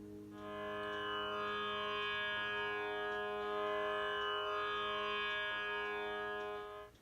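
Tanpura after its jawari bridge has been set, droning with rich buzzing overtones: one long sustained shimmering tone swelling and fading over several seconds, close and unaccompanied.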